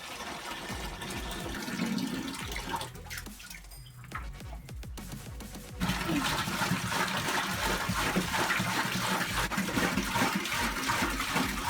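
A hose runs water into a newly built patio pond, a steady rushing splash that dips briefly before returning louder and fuller, continuous and close.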